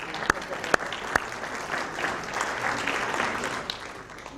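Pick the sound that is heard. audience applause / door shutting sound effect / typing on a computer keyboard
audience applause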